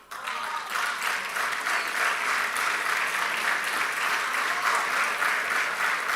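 Sustained audience applause at a political economic speech in Argentina, steady and fairly loud throughout, a dense crowd clapping with no voice on top.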